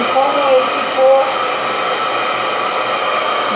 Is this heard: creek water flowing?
no